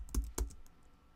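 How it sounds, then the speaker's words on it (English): Two quick key presses on a computer keyboard while a command is typed into the Windows Command Prompt, close and fairly quiet, followed by a faint tail. "So I'm going to type the command clean,"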